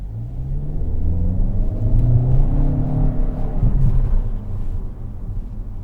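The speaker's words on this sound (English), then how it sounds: "It accelerated so smoothly, the way only a CVT could do." A 2023 Kia Soul with a CVT accelerates smoothly, a loud, steady engine drone and road rumble rising evenly for several seconds with no talking.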